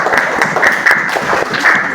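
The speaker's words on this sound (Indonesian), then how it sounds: "Boleh tepuk tangan." Classroom applause after a group presentation, a steady patter of hand claps from a small group of students filling the room at moderate loudness with no talking over it.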